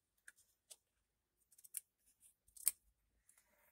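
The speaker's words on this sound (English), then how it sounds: "we'll get our little scissors and cut this side." Small scissors snip a few times in short, crisp cuts with quiet pauses between, close by and fairly soft.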